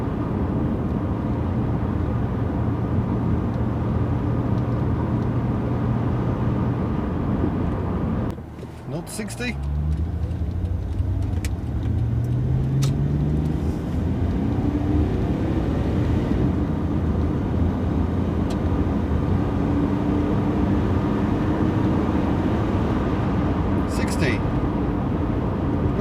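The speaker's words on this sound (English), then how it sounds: "Lovely exhaust note. It really does burble away quite magnificently." Nissan Laurel C31 engine and exhaust burble steadily from inside the moving car, with a gear change partway through and rising revs afterward, while a voice briefly talks over it.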